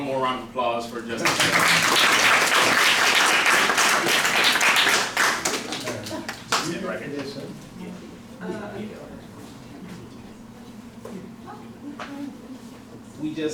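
Loud audience applause for Justice Albie Sachs at Howard University School of Law, a dense burst of clapping that swells and then thins into scattered claps, with voices murmuring beneath as it fades.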